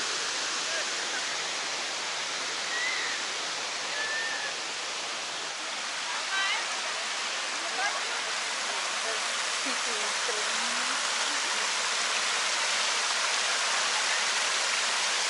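Steady roar of the Kravica waterfall and river rushing over its top fills the scene throughout, with faint bird calls and distant crowd voices barely audible underneath.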